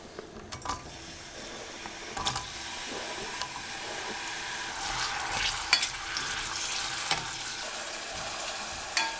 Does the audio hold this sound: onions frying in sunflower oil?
yes